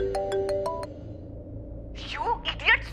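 A phone rings with a short electronic ringtone of several quick melodic beeps, then gives way to someone speaking over low room noise.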